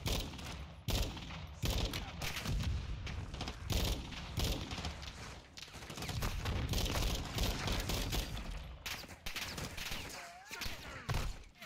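Call of Duty Modern Warfare II firefight, dense, loud bursts of rapid automatic gunfire with heavy booms, nearly continuous, with shouted voices underneath.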